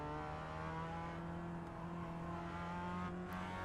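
A Mazda race car engine in iRacing drones steadily at a relaxed pace, holding an even, continuous hum with stable harmonics throughout and no voices.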